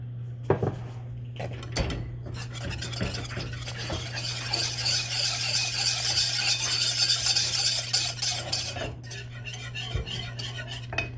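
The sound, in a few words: whisking Texas sheet cake frosting in a pot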